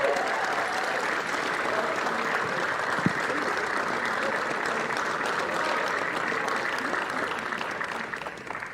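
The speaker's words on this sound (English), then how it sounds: "a big cheer for the STEELHEADS" A crowd at a winter league sports finals day applauds and cheers for the second-place team, steady clapping sustained throughout with a brief louder burst partway.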